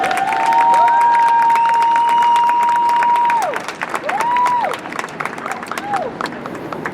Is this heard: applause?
yes